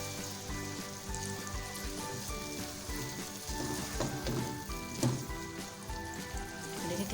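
Hyderabadi chicken curry is stirred together with crushed, browned fried onions in a hot pan, giving a steady, soft sizzle with light stirring scrapes throughout and no talking.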